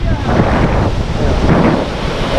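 Heavy wind roars against the microphone on a rainy beach at Dasol, Pangasinan, a loud continuous gusting wash with surf underneath.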